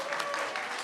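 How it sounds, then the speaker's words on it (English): Brief burst of audience clapping at a university business pitch competition, dense and steady with scattered hand claps, fairly soft and distant. "come on, one more applause, right?"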